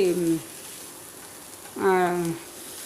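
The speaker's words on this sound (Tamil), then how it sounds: "ஆனியன் நல்லா வதங்கிடும் பாருங்கள்" Onion and okra sauté in an uncovered pan, giving a steady, faint sizzling hiss that runs throughout beneath two short bursts of a person speaking.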